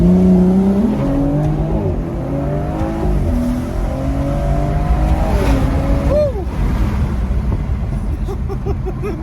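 A Stage 1 tuned BMW M240i engine roars through a hard pull, loud and close, its pitch climbing and dropping across gear changes under continuous road noise.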